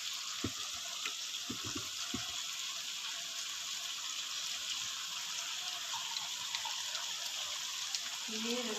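Water runs from a tap into a kitchen sink, a constant bright rushing hiss with a few clinks and knocks early on and a faint voice near the end.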